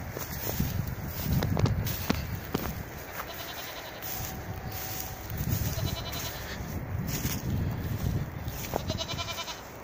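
A young goat kid tethered alone on a chain in a pasture gives short, wavering bleats among rustling, shuffling movement and footsteps, fairly close but not loud.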